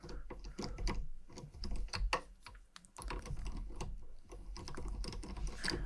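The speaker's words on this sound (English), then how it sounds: "I'm putting a little bit of oil in the gears and then working it in." Stiff gears of a 1958 Guild F-50 acoustic guitar's tuners, freshly oiled, being worked by hand, giving a steady close-up run of small clicking, ratcheting mechanical ticks.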